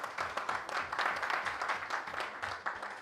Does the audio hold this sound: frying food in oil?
no